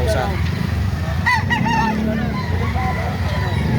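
Gamecock rooster at a market, giving honking, squawking calls over a constant low crowd and traffic rumble, with people talking in the background.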